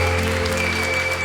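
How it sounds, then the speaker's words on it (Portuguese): A church congregation applauds during a Portuguese-language worship service, giving a steady wash of clapping under a sustained hum and tonal background. "Se você crê, aplauda bem forte a Jesus."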